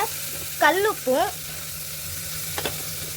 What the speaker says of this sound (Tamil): வெங்காயம் நல்லா கோல்டு கலரில் வர வரைக்கும் கிண்டணும்.